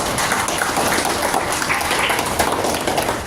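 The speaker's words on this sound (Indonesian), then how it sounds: "Tepuk tangan buat kalian semua ya." Children clapping together in a classroom, a steady dense patter of many small hands filling the whole moment without pause, with no talk over it.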